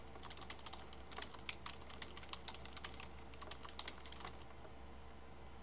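Someone types text on a computer keyboard, faint and close, in quick irregular bursts of light key clicks over a low background hum.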